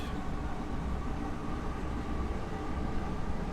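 Class 465/9 Networker electric train in Train Sim World 2, a steady low rumble and hum of the running unit throughout, even and unbroken with no talk.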